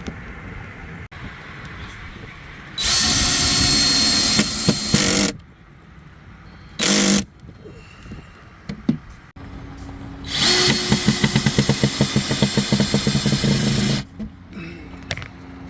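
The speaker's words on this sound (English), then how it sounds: "We're drilling pilot holes about screw length now into the backboard." Power drill bores pilot holes into a wooden backboard for a swing-out fish cleaning table, in two loud sustained bursts with a short blip between, then quiet handling.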